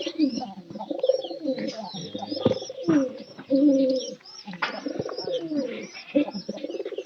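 Pigeons coo in steady, overlapping low phrases close by, near a cage with straw set out in a pigeon loft, with a few chirps and light rustling mixed in.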